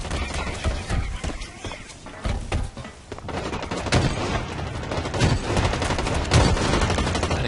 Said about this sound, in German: Ich höre überall Schüsse, aber ich sehe nichts.